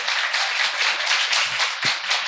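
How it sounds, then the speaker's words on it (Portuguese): A church congregation applauds for Pastor Leandro, loud, close, continuous clapping from many hands in a steady pulsing wash. "Vamos aplaudir o seu pela vez do Leandro, né?"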